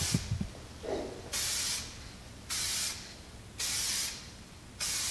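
Spray gun laying a first coat of red paint onto a Ford Focus RS widebody kit: four steady bursts of loud, airy hiss, each lasting about half a second, separated by short pauses, with a faint clatter at the start.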